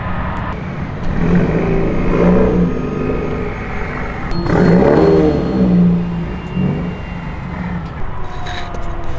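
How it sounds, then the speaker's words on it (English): Subaru car revving hard during a burnout, two surging waves of engine roar with rising pitch, loud and close, then settling to a rough idle. "I'm gonna hop in the Scooby real quick, pull the car around, do a dope burnout"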